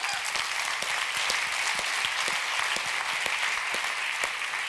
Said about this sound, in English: Huge round of applause for everybody.